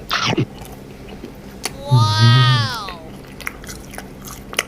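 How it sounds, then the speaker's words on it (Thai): Dried strawberries coated in chili salt are bitten and chewed close to the mic, with a few sharp crisp bites at the start followed by a louder sticky chewing burst midway; a faint vocal sound overlaps the chewing. "หนึบหนับอ อร่อยสตรอเบอรี่เอาสองสามชิ้นเลย"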